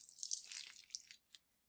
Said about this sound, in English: What if I pour it on your head, Mr. Crouch?